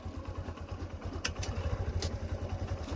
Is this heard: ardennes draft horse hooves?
no